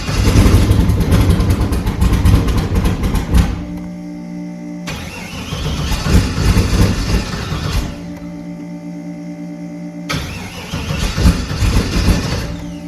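A G-body Malibu with a carbureted turbo LS engine cranks hard in the cold, a loud rapid chugging of the starter in bursts with brief pauses between, close by and never catching.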